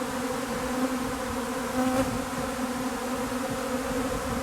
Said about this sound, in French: Je vais attendre un peu encore que toutes les abeilles se fixent.